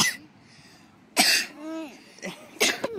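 A child coughs in a few short separate bursts, close and fairly loud, with quiet gaps between them and a voice briefly heard in the clip.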